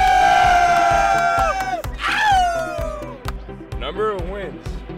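A crowd of New York Mets fans shouts and cheers outside Citi Field on opening day of the 2019 home opener. Loud whoops and rising voices rise over a steady pulsing beat, with close shouting voices in the mix.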